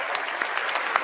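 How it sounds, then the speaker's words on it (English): Applause from an audience at a university new student convocation in Washington, a steady dense clatter of many hands clapping throughout, fairly close and even, with no talk over it. "come on, let's clap one more time."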